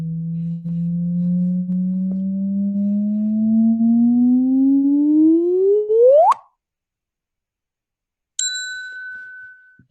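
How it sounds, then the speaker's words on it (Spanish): A gravitational-wave signal from merging neutron stars converted into sound: a steady low tone rising slowly in pitch, then sweeping sharply upward into a chirp that cuts off, followed after a brief silence by a bright artificial ping. "Ok, entonces este es el sonido de la onda gravitacional, traducido a una onda de sonido."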